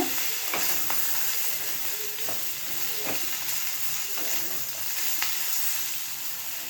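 Cumin and black pepper dry-roasting in a pan give a soft, steady sizzle with scattered crackles and occasional stirring scrapes, close by, with no voices.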